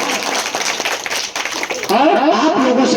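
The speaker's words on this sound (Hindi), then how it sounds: "बिटिया के लिए जोरदार ताली होनी चाहिए" Crowd breaks into loud applause for a young girl's correct quiz answer at a memorial gathering with children in Khetasarai, the clapping swelling and holding steady under a voice speaking over it.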